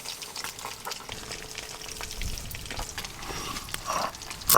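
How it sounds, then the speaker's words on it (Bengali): Small river fish fry in oil in a pan, a soft continuous sizzle with faint crackles and a light scrape toward the end, without speech. "এদিকে কিন্তু আমার মাছও বেশ ভালো করে ভাজা ভাজা হয়ে গেছে,"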